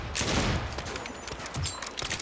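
Rapid bursts of gunfire from a Saints Row firefight, a brief crackling volley of shots at moderate level with no talking over it.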